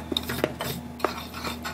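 A utensil stirs cinnamon into sugar, making a few soft scrapes and light clinks against a bowl, close and quiet, with no talking.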